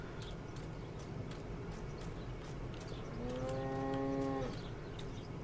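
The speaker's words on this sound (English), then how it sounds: "Goodbye, cows" A cow moos once in the video game Martha Is Dead, a long, drawn-out low call rising out of a steady outdoor ambience, moderately near, with faint ticking noises around it and no talking.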